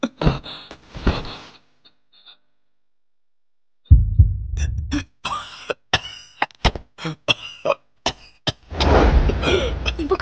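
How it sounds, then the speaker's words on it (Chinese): A person coughs in a few harsh bursts, goes quiet for a couple of seconds, then breaks into a longer, choppy fit of coughing and throat clearing that ends in a loud rasping cough, heard close with no talk. "你不咳嗽了？"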